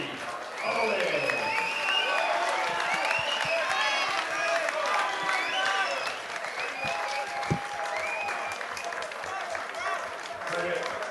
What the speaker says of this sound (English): please make some noise for your winner, Bradley Owen.